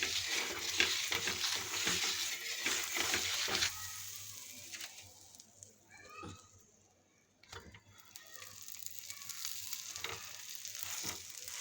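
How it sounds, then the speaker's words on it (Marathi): Sliced burger buns toast in butter on a griddle, a close crackling sizzle with clicks of turning and handling, fading quieter in the middle before the frying swells again. "असे अलट पलट करून हे बर्गरचे पाव आता भाजून घ्यायचे."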